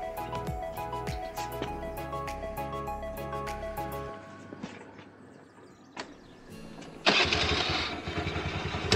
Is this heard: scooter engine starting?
yes